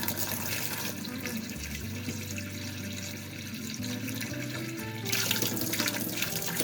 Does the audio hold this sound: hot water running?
yes